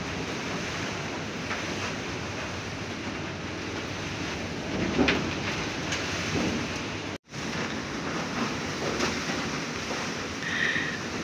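Strong typhoon wind with light rain roars as a dense, steady wash of noise, with a few louder gusts swelling through and a brief dropout partway along; nobody speaks.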